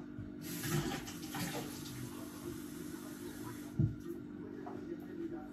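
Lukewarm tap water runs steadily into a container while chapati dough is being prepared in a home kitchen, a soft continuous hiss with a brief splash near the end.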